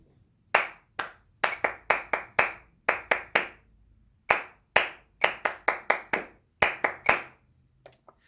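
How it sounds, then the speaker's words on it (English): Bare hands clapping a sixteenth-note counting drill in short bursts of sharp, close claps, each group of four or so evenly spaced, separated by brief pauses, with no voice. "I stopped counting so that my voice wasn't overpowering the clapping"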